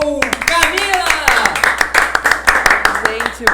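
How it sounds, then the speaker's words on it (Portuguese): Audience applause for Camila, a guest on a Portuguese-language podcast, a burst of dense hand clapping running throughout with voices talking over it. "Uma salva de palmas para a nossa convidada que dá show, Camila!"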